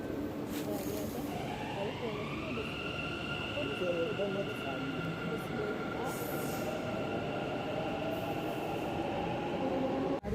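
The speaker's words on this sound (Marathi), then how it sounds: "आता आपण आहोत ग्रीन मेट्रो लाईनच्या कृष्ण राजेंद्र मार्केट म्हणजेच के आर मार्केट या भुयारी मेट्रो स्टेशनात" A Bengaluru metro train rumbles through the enclosed underground Krishna Rajendra Market station on the Green Line, wheels grinding steadily with a rising high squeal, loud and continuous throughout.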